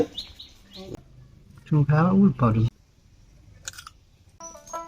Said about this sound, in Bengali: এই যে এটা পালা শালিক আছে